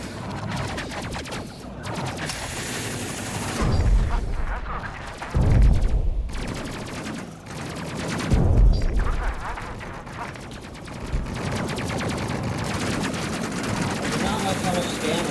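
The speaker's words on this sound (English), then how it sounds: "They automatically switched to the auto cannon when their shield came down." Rapid automatic cannon fire from a spaceship battle in the video game Space Crew, loud, sustained bursts with heavier booming impacts around the middle, all alone without speech.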